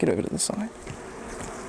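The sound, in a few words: honeybees buzzing as frame is shaken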